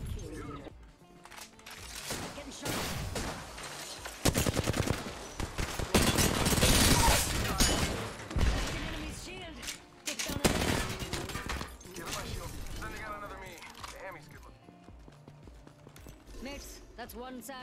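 Dense bursts of automatic gunfire and explosive impacts from a firefight in the video game Apex Legends, loud and sustained with overlapping shots, mixed with game effects.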